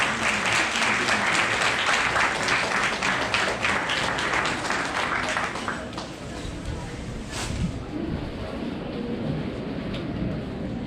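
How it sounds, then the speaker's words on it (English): Audience applause at an educational seminar, a dense wash of many hands clapping that fills the first six seconds, then thins into scattered claps and murmuring voices as it winds down. "Clap, clap."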